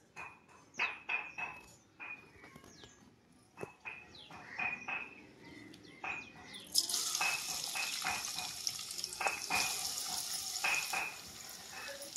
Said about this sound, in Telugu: ఉల్లిపాయలు పచ్చిమిరకాయలు అయితే వేసుకున్నానండి.